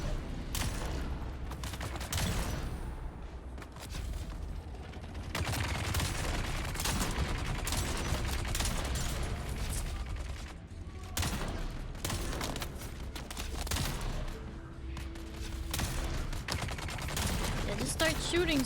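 Snub-nose revolver gunfire in the video game Dune Awakening, with repeated shots and dense bursts of firing over a busy, loud game soundscape that runs throughout.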